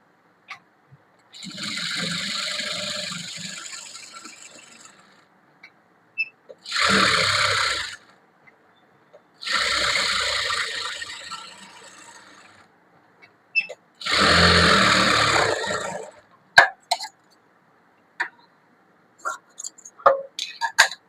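Sewing machine stitching a blouse in several separate runs of steady, fast mechanical stitching, close and clear, with short pauses and small clicks and handling noises between them.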